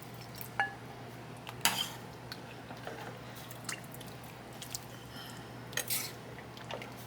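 Broth vegetables and beef bones being ladled from a pot into a bowl, with scattered clinks of utensil against pot and bowl, soft wet drips and squishes, close and fairly quiet.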